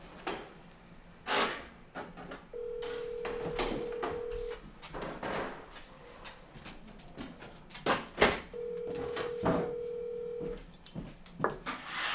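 Outgoing telephone call with two long ringback tones a few seconds apart, faint under background rustling and handling noise, with no voices.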